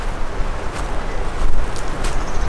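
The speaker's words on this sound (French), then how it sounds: "le vent vient de l'autre côté" Strong wind blows steadily against a Lone Rider motorcycle tent pitched outdoors, a loud, continuous roaring rush with gusty swells and occasional faint flaps.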